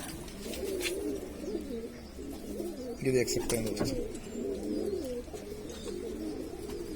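Pigeons coo in soft, low, rolling phrases nearby while someone talks over them at a Jaipur pigeon loft.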